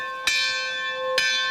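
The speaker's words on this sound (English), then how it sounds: "Does it have to have the bigger bell that made more noise because it had double boilers instead of one boiler?" Two loud, clear strikes of a vintage Keystone locomotive bell, each ringing out with a bright metallic tone that sustains between hits, heard alone with no talk.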